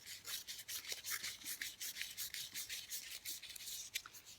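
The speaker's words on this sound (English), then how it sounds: "Just roll it up as tight as you can." Narrow paper strip being rolled up tightly by hand, a quiet rapid series of dry rubbing and scraping strokes close by with an uneven rhythm.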